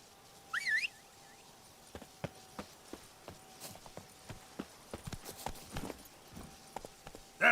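Roach the horse trots in Witcher 3 Blood and Wine with a steady, moderately paced clip-clop of hooves, fairly faint and close. A bird calls briefly near the start.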